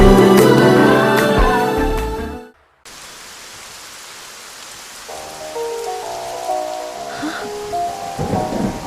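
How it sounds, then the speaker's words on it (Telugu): Rain falls as a steady broadband hiss that continues alone after loud music cuts out, with faint tonal sounds returning beneath it toward the end. "వర్షం పడింది"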